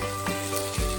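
Chopped tomatoes stirred into a sizzling spice paste for fish curry in oil, one steady frying hiss with a couple of short scraping stirs, close and alone.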